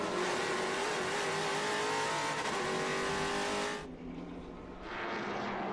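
A race car accelerates hard around the VIR circuit, its engine roaring loud and steady as the pitch climbs, then dips briefly as the throttle is feathered before the engine picks up again.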